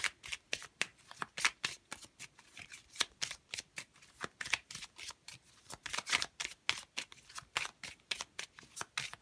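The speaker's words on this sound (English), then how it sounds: "I'm going to grab playing cards" Playing cards are shuffled over and over, giving rapid, crisp riffling bursts in a steady rhythm, close and alone.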